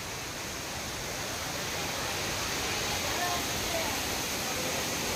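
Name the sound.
water falling at Kallathgiri waterfall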